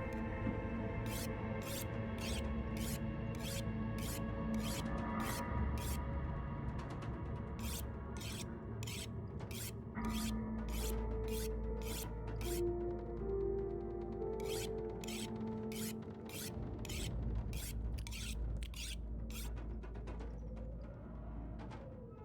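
Repeated rasping strokes of a tool being sharpened in The Long Dark, a steady run of short scraping bursts in groups, layered over a constant low game ambience and faint music, with no talking.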